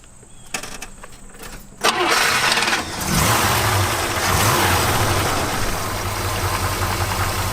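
An International Scout truck engine with a new starter and fuel pump cranks a couple of times, catches, and settles into a loud, steady, rough-edged idle with a brief rev, heard up close.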